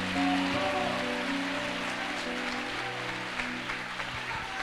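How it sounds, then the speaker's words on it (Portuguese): Church congregation applauding during a Wednesday evening worship service, a steady dense wash of clapping with sustained music or organ tones underneath throughout. "Aplauda mais forte ao Senhor"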